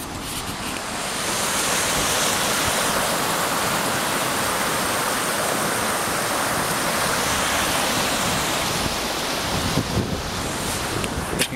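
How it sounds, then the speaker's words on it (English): A river rushes past near the car park at Lynmouth after heavy rain, a loud, steady broadband roar of flowing water that continues for the full stretch with some wind buffeting the microphone. "show you the river"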